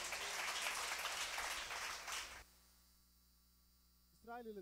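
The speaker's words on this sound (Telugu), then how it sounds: "గట్టిగా చప్పట్లు కొడదాం ఒకసారి." Audience applause at a gospel meeting, a dense loud burst of clapping that stops abruptly partway through, leaving low hum and a short voice at the end.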